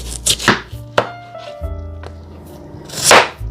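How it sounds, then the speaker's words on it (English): Potatoes being cut into equal pieces with a knife on a cutting board, several sharp chops at uneven intervals with a final louder slice, close and clear, with no talk. "I'm going to cut them into equal size"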